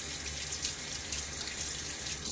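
Water runs from a tap to rinse shaving lather off a Gillette Silver Blue safety razor head, a steady close hiss and splash lasting throughout.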